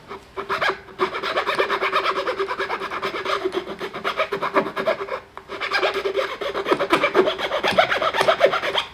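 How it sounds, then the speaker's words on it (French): The wood file on a Leatherman Arc multitool rasps against a piece of wood in steady back-and-forth strokes, close and loud, with a short pause around the middle. "La partie lime à bois fonctionne très bien."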